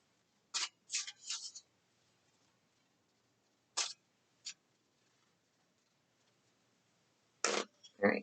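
Tarot cards being shuffled in the hands, several quick crisp riffles and flicks in short bursts separated by quiet pauses, close and fairly soft with no talking over them.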